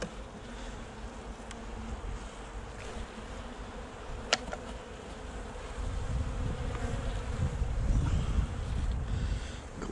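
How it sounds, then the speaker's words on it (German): A large honeybee colony in a hive in winter gives off a soft, continuous buzzing hum that swells slightly toward the end, with faint wind noise and no talking. "Das hier ist doch mal ein super geniales Bienenvolk."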